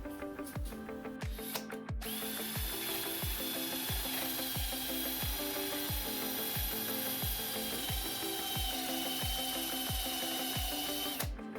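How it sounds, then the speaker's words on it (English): A motor-driven buffing wheel polishing whirs steadily, with a regular rhythmic thumping that repeats about twice a second, close and constant throughout. "Called it a buffing wheel."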